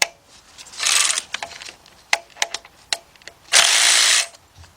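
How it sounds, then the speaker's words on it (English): A regular ratchet turning a timing cover bolt on a Chevy Cobalt engine, heard as two bursts of rapid clicking separated by sharp metallic taps and clunks, close and fairly loud with no talk. "And then you'll be using a regular ratchet then."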